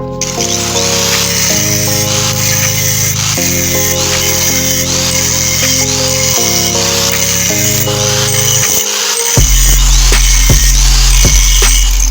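A loud power tool whines and grinds continuously with shifting pitch, its blade cutting metal pipe for a motorbike exhaust, a harsh abrasive cutting noise close up, ending in a heavier rumble.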